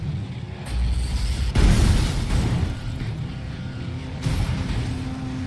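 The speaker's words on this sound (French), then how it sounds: "les explosions par contre elles sont un peu plus fun" Cars explode in the video game Flatout 4 Total Insanity: loud booming blasts over a low engine rumble, with a strong burst near the start and another toward the end.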